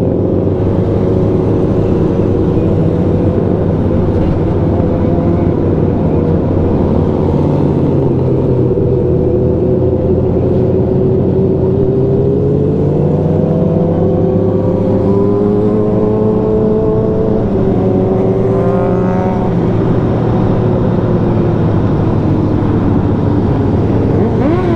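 Honda CBR 600 motorcycle on a Sunday group ride, its engine revving and rising in pitch as it passes, set against a steady loud rumble of other bikes and wind.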